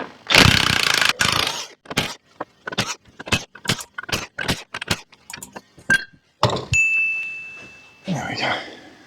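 Metal taps and scrapes as a pry bar works a half shaft out of a Land Rover Defender axle. Sharp strikes repeat in an irregular rhythm, and a ringing metallic tone follows near the end. The sound is close and loud.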